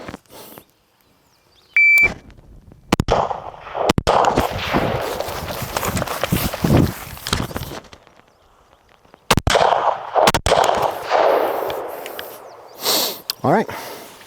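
Carbine gunfire on a shooting range during a T.REX Arms course-of-fire drill from the 10 and 25 yard lines, with sharp loud shots in quick pairs and clusters separated by pauses, and a short electronic beep near the start.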